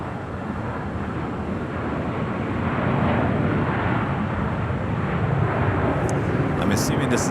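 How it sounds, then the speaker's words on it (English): A United 737 jet lands on runway 25 right at LAX, its broad engine roar steady and fairly loud throughout, swelling slightly midway, with wind buffeting the microphone. "this United 737 landing on this 25 right"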